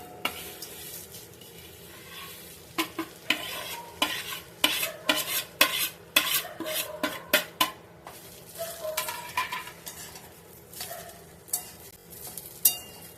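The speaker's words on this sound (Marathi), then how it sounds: "आपण इथे जे भाजून घेतलेलं खोबरं आहे ते सगळं कांद्यामध्ये मिक्स करूया" Roasted grated coconut is stirred into fried onions in a pan, with a spoon scraping and clacking in uneven bursts over a faint sizzle, nearby and fairly loud.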